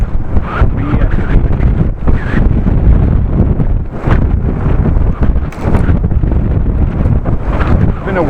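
Very heavy wind buffets the microphone of a cyclist riding along a flat open route lined with trees, a loud continuous roaring rumble with gusting surges throughout and no talk.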